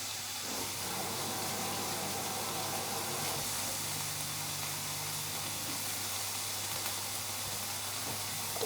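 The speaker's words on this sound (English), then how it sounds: "Once we've done that, I'm just going to wash my hands." Water runs steadily from a kitchen tap while hands are washed during home steak-supper prep, a continuous broadband hiss that stays even and fairly loud throughout, with no talking.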